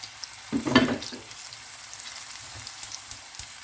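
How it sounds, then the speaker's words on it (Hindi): Potato pakoras fry in hot oil in a well-worn kadhai, a steady crackling sizzle swelling into a louder, busier burst near the start before settling back to a constant bubbling hiss. "अभी मैं आलू के पकोड़े बना रही हूँ।"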